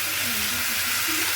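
Bottle gourd (dudhi) pieces dropped into a hot pan for a Marathi-style bhaji, giving a steady, even sizzle and hiss that holds at one level throughout.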